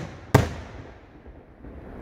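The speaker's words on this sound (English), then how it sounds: "these fireworks are huge." A single sharp firework bang cracks out, then fades into a long rolling echo with quiet crackle afterward.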